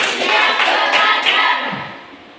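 At a school event, a group claps together in a counted pattern. Dense, loud hand claps layer over one another for about two seconds, then fade away.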